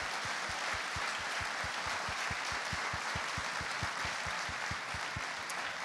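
Sustained audience applause filling a conference welcome session in tribute to a departed team member, with dense steady clapping throughout and no talk over it.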